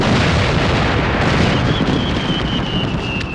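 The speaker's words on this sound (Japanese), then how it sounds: "正確に言うと花火の玉が空中で割れた時の音だよ。" A fireworks shell bursts with a loud boom in the air nearby in an animated scene, a broad rumbling blast that fills the moment with a faint whistling tone over it.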